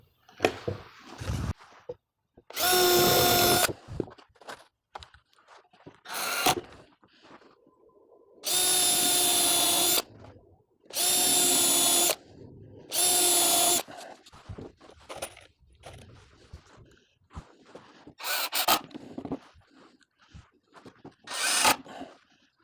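A power drill drives 1 1/4 inch number 8 screws into wood, making several loud, close bursts of whining motor a second or two long, separated by pauses with handling clatter.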